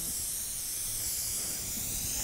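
A spray gun hisses steadily as it applies TensorGrip H40 Koolduct joint adhesive to duct joints, a continuous close airy spray with no pauses.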